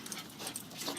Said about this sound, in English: we're gonna go into the backyard, and there will be 4 dogs